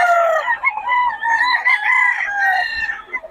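A seven-month-old stag (young rooster) crows several times in a row, loud and close with strained, wavering calls, alone with no talk over it.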